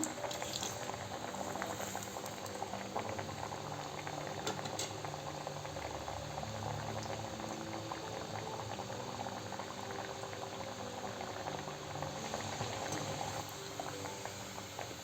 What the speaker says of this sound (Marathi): तेल गरम झालेलं आहे यात आपण वडे घालू मीडियम गॅसवरच तळून घेऊ